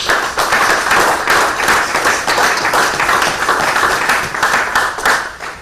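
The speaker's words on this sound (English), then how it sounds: "let's give them a big round of applause." Loud, close applause from an audience at a mayor's downtown update event, with the clapping fluttering and swelling unevenly for several seconds and no talk over it.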